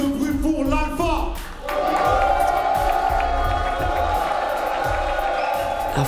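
A large crowd in a packed pit cheers and shouts at a rap battle, a loud sustained roar that swells after a brief voice at the start and carries on to the end.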